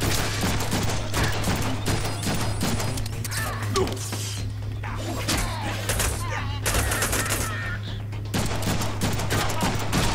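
Rapid gunfire in the Deadpool video game, a dense continuous barrage of shots with crashes and mechanical clatter over a steady low hum, loud and busy throughout.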